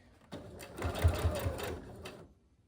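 A sewing machine stitches a bellydance sword cover in a short, close burst of rapid mechanical whirring that starts abruptly and stops after about two seconds.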